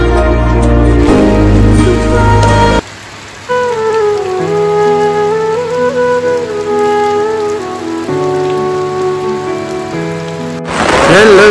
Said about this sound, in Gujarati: બે દિવસથી ફૂલ એટલે ફૂલ વરસાદ ચાલુ છે